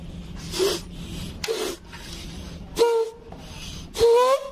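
Air blown by mouth through the membrane of a 1997 Yamaha RX King carburetor makes several short rasping, squeaky bursts, the last two rising into a thin whistle-like tone. The bursts are close and fairly loud, with brief quiet gaps between them and no talk.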